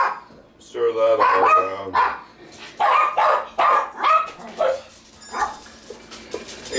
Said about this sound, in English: And the dogs are boisterous.